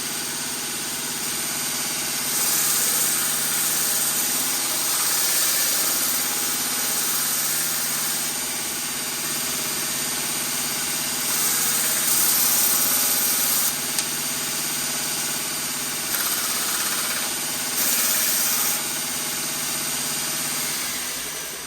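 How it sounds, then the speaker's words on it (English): A belt grinder runs steadily while a bushcraft knife blade is ground on a 120-grit belt, giving a continuous droning whir with slight swells as the blade is pressed and passed along its length, with no talking. "You can see that's grinding nice and even the whole length."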